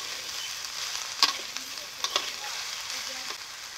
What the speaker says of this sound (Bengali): এখন কোচানো ভেন্ডিগুলো দিয়ে দেবো।